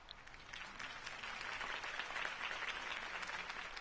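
A large crowd applauds steadily, a dense wash of clapping that holds at an even, fairly loud level throughout.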